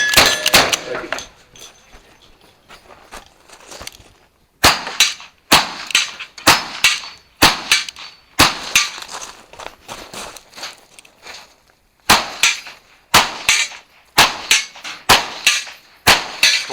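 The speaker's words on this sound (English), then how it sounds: "Four shotgun and then one makeup. It was your last rifle shot." Sharp gunshots from shotgun and rifle on a cowboy action shooting stage, a quick string of loud blasts with short gaps, then a pause and another burst of several shots, with brief talk at the start.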